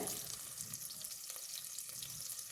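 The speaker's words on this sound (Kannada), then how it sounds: "ಈರುಳ್ಳಿದ ಹಸಿ ವಾಸನೆ ಹೋಗಬೇಕಾಗುತ್ತೆ ಅಲ್ಲಿ ತನಕ ಫ್ರೈ ಮಾಡ್ಕೊಳ್ಳೋಣ" Onions frying with spices such as bay leaf and stone flower in a home kitchen pan, a steady faint sizzle running through the whole stretch with no voices.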